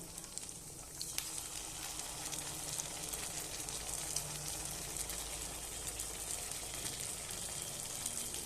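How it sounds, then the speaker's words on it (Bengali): A fried egg sizzles in a pan as tomato sauce is added, giving a steady, dense crackle and hiss that continues without a break at a moderate level. "ডিমটা ভাজা হয়ে গেছে। এবার এখানে আমি টমেটো সস দিয়ে দেবো।"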